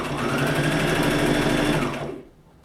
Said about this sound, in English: make sure I'm sewing both the strap and the rectangle together